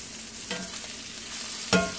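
Heart-shaped chicken breast fries in a pan with a steady low sizzle, and two brief louder crackles or stirring bursts stand out, one early and one near the end.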